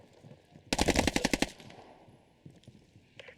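A rapid burst of SMG fire in an online shooter match, about a dozen quick close shots that end sharply, followed by faint game noise and a few distant pops.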